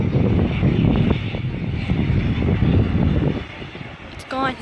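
An airplane taxis along the runway at an airshow, a broad steady engine roar and rumble with wind noise, loud and close for several seconds before easing off near the end.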